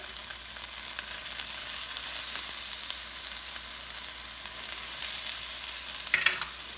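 Ginger frying in a pan with chicken for cauliflower fried rice, a steady low hissing sizzle with faint scattered crackles and a brief clatter near the end.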